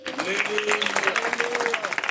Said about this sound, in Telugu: గట్టిగా గట్టిగా చప్పట్లు కొట్టి దేవుణ్ణి స్తుతించండి